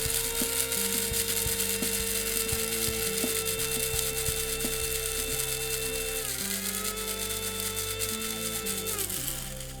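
A small electric spice grinder grinds toasted fennel seeds to powder, a steady loud motor whir with rattling, buzzing seeds that runs throughout and shifts in pitch partway as the seeds break down.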